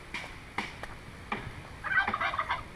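A turkey gobbles in a rapid, warbling burst, preceded by a few short clucks, moderately close outdoors.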